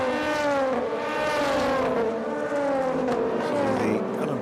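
LMP3 prototype race cars at the 4 Hours of Barcelona European Le Mans Series round, their engines howling loudly and continuously with rising and falling pitch as several cars run close together in traffic.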